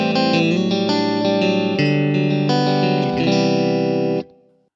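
Electric guitar chords ring out through a Kemper Profiler on a clean sound setting, several strummed changes played loud and alone before stopping abruptly and fading out.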